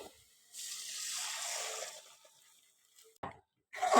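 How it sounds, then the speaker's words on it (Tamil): Ground batter poured into a pan with coconut in it, a soft wet gushing and splashing for about two seconds, then quiet and a few light wet clatters. "இப்போ மாவு ஊற்றிக்கலாம்."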